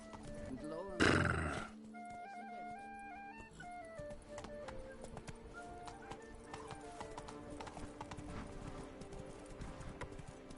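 Roach, a horse in The Witcher 3: Blood and Wine, whinnies loudly once, then a steady clip-clop of galloping hooves runs on under game music and ambient sound.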